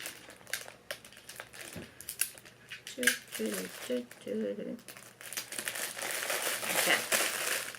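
A plastic bag crinkles and rustles up close while tape is pulled and pressed to keep it shut, in uneven bursts of scratchy handling; a voice speaks briefly midway.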